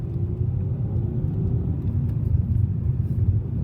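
A 2007 Audi A3 five-door with a 2.0 TDI turbo diesel and six-speed manual cruises along a main road, giving a steady low engine and road rumble that holds at an even level throughout, close and loud, with no talking.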